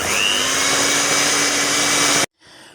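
A homemade facial lightening cream is whipped with an electric mixer, giving a loud, steady motor whir that runs continuously for about two seconds, then cuts off abruptly into near silence.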